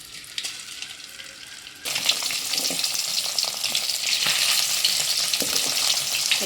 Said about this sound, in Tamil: நம்ம இப்போ மீன் துண்டுங்களை போட்டு வறுத்து எடுத்துக்கலாம்.